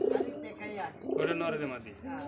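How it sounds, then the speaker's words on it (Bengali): A pair of big desi Bombay pigeons coo close by: two deep, rolling, throaty calls rise and fall in quick succession. "একজোড়া বিগ সাইজের মধ্যে দেশি বোম্বাই কবুতর"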